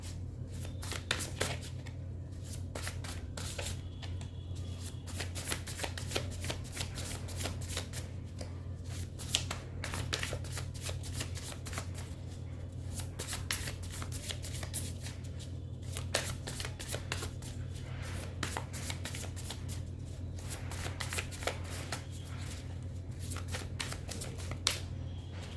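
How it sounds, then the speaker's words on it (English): Tarot cards being shuffled by hand, a continuous soft riffling and slapping of card stock at close range, steady for the whole stretch with a faint low hum beneath and no voice. "let me pull out some tarot cards for you"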